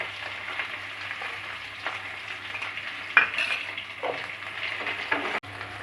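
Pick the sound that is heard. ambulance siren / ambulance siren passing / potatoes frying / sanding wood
potatoes frying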